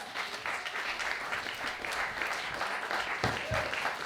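A short burst of audience applause follows a poem reading at a poetry event, with steady clapping from a modest crowd for about four seconds.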